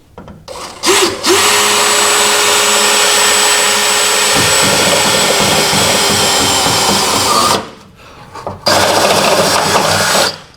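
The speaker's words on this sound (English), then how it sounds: "Now I need to drill a hole for that bulkhead fitting" A loud, close power drill boring a hole in a car bulkhead runs steadily for several seconds, its pitch dropping partway through as it bites, then stops briefly before a final burst.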